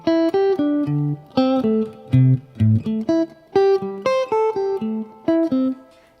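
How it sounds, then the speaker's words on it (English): Clean electric guitar plays a melodic line of wide interval leaps, single picked notes jumping between high and low pitches in an even, steady rhythm, with no talking. "And what I like to do is just do some big interval jumps."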